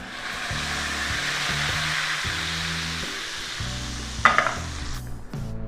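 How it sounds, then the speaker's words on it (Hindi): A hot tempering with red chili powder, used for Sultani dal made with butter, green chilies and mint, is poured into the dal and sizzles loudly and steadily, with a brief stir and clink near the end over soft background music. "इस स्टेज पर ऐड करेंगे 1/2 टेबलस्पून रेड चिली पाउडर और डाल देंगे दाल के अंदर"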